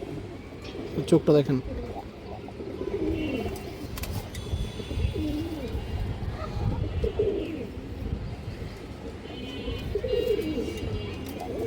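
Pigeons cooing, including a colourful Bagha hen pigeon among silver, khaki and green-necked breeds at a pigeon market, with soft coos and a few chirps running steadily beneath someone talking nearby.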